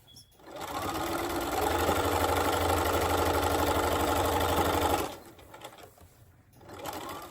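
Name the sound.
sewing machine stitching quilt batting down the middle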